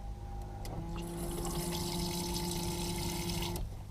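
Tap water runs in a steady hissing stream into a small sink in a Renault Kangoo micro camper van, with a low constant hum underneath, starting and stopping abruptly.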